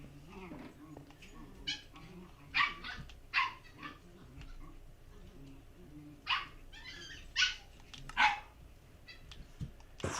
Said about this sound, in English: Sounds like the dogs are having a blast out there playing.